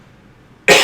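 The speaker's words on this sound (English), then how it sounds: "Jake's been coughing through this whole episode" A single sharp cough bursts out near the end after near silence, loud and close, from a podcast host who has been coughing repeatedly.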